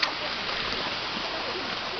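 Broad, steady rush of water at Aya-Aya Falls in Lugait, a constant wash of noise close by across the whole short stretch.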